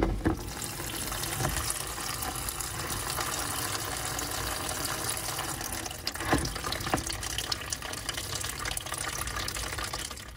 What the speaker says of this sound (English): I think I have all of it drained out now.